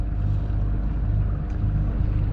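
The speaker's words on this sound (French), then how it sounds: "ça fait plusieurs heures qu'on est au moteur avec un petit peu de voile" A sailboat runs under engine at sea with a little sail set, giving a loud, steady low motor drone with wind and water rushing over it, unbroken throughout and with no talk.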